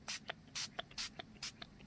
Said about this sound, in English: and spritz through the stencil